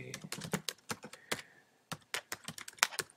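Close keystrokes on a computer keyboard come in quick irregular bursts, with a short pause midway before the clicking resumes, quiet and without speech.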